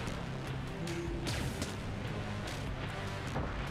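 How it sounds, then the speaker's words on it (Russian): Gunfire in the first-person shooter Void Bastards: a few quiet, sharp bursts spaced roughly a second apart over a soft, steady game background. "еще выстрел"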